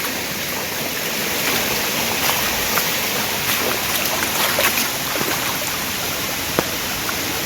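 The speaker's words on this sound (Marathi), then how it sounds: "ढोंगरावरून वाहत येणारं पाणी" A rain-fed stream running down from the hills in the Konkan monsoon, a continuous rushing wash of flowing water at steady volume, close by, with faint scattered splashes and no talk.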